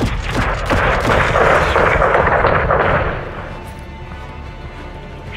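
An air strike levels a greenhouse in Call of Duty: Modern Warfare 2 with a loud, rumbling barrage of blasts for about three seconds. The roar then drops to a lower, lingering rumble, with no voices.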